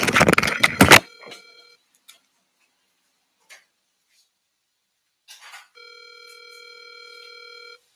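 An outgoing telephone call rings on the line: after a short burst of voice at the start, a few faint ticks follow, then a steady electronic ringback tone holds alone near the end.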